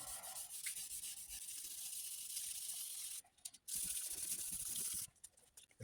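Fine-grit sandpaper rubs over a patched rust hole on a car panel, a steady dry hiss that breaks off briefly around three seconds and again near the end, with no talk.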